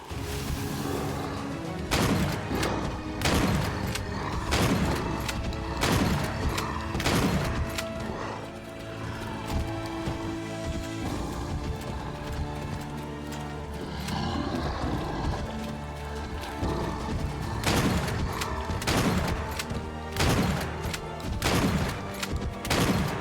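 Repeated loud shotgun blasts in a Resident Evil game, sharp booming shots in irregular bursts over continuous dense game noise, with strong clusters at the start and near the end.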